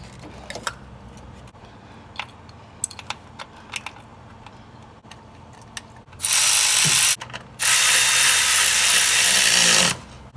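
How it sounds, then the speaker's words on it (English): Bolts are tightened on a Nissan Titan valve cover with old ignition coils fitted, first small metallic clicks and taps, then two loud bursts of a whirring power tool close by. "we can go ahead and throw in our old coils and tighten down each bolt"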